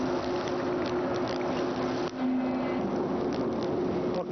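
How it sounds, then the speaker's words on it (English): A 1988 Racor 800D mobile oil fuel blender runs steadily, pumping fuel out of a tank and back into it, giving a continuous mechanical drone with a low hum and a brief dip midway. "we're sucking fuel out of this tank here, and it's going through the unit and going back to the tank"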